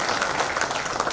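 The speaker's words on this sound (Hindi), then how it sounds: "जोरदार तालियों से उनका स्वागत" A crowd at a BJP gathering in Indore claps steadily, an even, dense wash of applause from start to finish with no voices above it.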